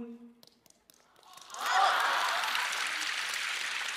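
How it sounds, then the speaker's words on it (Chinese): Applause from a live audience at a Chinese crosstalk (xiangsheng) show. It swells after a moment of speech and then stays as a steady, dense clapping through to the end. "就这个还给鼓掌，现在观众是太善良了"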